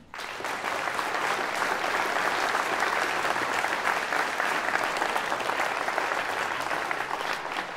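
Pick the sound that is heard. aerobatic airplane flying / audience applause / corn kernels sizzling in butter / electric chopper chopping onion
audience applause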